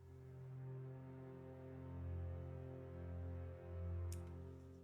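Soft, intimate string ensemble playing isolated, sustained low chords that swell gently, faint and alone throughout.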